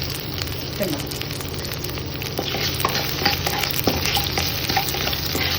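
Curry frying in a pan with a steady, fairly loud sizzle and crackle throughout, overlaid by frequent stirring scrapes and small pops.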